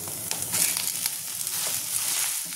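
Grated, mashed potato goes into a pan of frying onions with chopped green chilli and chilli flakes, setting off a steady close sizzle with a few scraping stirs for a paratha filling.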